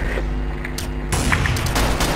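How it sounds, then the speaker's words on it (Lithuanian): Gunfire in Counter-Strike: Source on a public server, bursts of shots with a dense rapid volley in the second half, loud and close with no talk over it. "Žiūrėkit šaudo."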